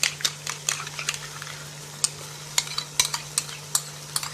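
Bhindi masala being stirred after cream and yogurt go in gives repeated close spoon scrapes and clinks against the pan in an uneven rhythm over a low sizzle and a steady hum, with no talk.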